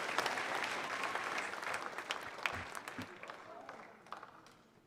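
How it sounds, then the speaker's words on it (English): Applause rises from the audience at an elementary school awards ceremony. The clapping is dense and steady and fades toward the end, with voices in the background. "So give me a round of applause."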